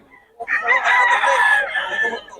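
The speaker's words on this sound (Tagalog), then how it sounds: "ang mga manokos ni Boss June mga idol, baksak presyo na" Roosters bred as fighting cocks crow loudly and close by, one long sustained call after a brief silence, with a faint voice in the background.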